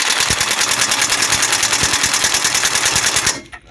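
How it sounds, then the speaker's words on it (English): A torque wrench works the drag link on a Ford E-Series van, giving a rapid, steady ratcheting clatter up close that runs for several seconds and then stops abruptly. "we're just going to torque our drag link"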